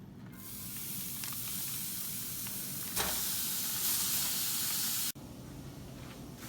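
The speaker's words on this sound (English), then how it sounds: "frying coconut." Coconut frying in a pan while making misal, a steady close sizzle and hiss throughout, growing brighter as pieces are stirred about, then cutting off sharply near the end to a quieter, lingering fizz.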